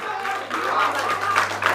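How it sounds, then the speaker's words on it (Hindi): Audience applause at a Hindi ghazal poetry recital in Gorakhpur, a steady, dense wash of clapping that holds through the whole short stretch over a low electrical hum. "जोरदार तालियां होनी चाहिए"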